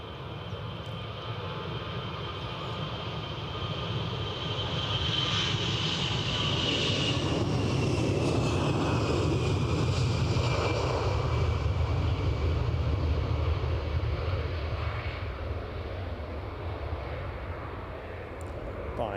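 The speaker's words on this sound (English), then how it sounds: "Let's get this plane in the air" An airliner takes off near Edinburgh with a jet roar that swells from a distance, peaks loud near the middle with a rising whine, then slowly fades. No one speaks over it.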